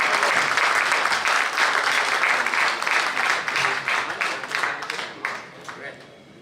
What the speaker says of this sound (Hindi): इस्तकबाल कीजिए तालियों की गूंज में।